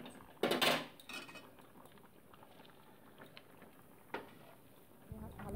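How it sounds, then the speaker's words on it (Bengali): Chopped pea greens being stirred with boiled vegetables in a pan for a vegetarian dish, a few soft clinks and scrapes of a utensil against the pan, quiet and sparse with long gaps. "ভালো করে নেড়ে চেড়ে নিচ্ছি একটু শাকটা দিয়ে।"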